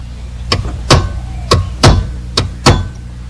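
Six sharp metallic taps of a small hammer striking a small chisel against the retaining ring of a car keyway guard, irregularly spaced, close and fairly loud, with nothing else in the background.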